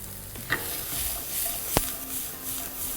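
Curry leaves, ginger, green chillies and onion sizzle and are stirred in a hot pan, a steady frying hiss broken by a couple of sharp spatula scrapes and clicks.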